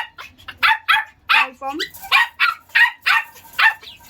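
Dogs bark in short repeated bursts at an animal market, about eight sharp yaps close by, with a person talking over and between them.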